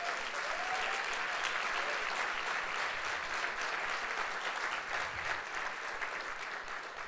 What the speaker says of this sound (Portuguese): Você quer aplaudir Ele?